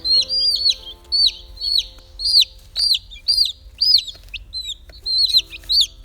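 A flock of chickens clucks in a steady rhythm of repeated squawking bursts, near and loud, over a low constant background hum, with nobody speaking.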